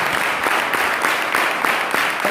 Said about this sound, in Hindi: फादर को सीजी मिशन की ओर से, मिशन संडे स्कूल की ओर से ताली बजाकर हम लोग धन्यवाद दें